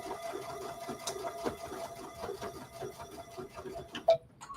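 A Luminaire sewing machine stitches on a button with quiet, steady mechanical ticking that stays fairly faint throughout, ending in one sharp click near the close.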